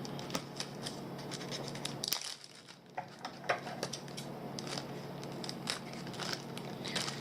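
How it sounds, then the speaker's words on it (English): Crisp snipping and crinkling as scissors cut a thin plastic sandwich bag, a run of short cutting clicks with a brief pause midway, fairly close and unaccompanied by voices. "take a pair of scissors and we're going to cut the sides out"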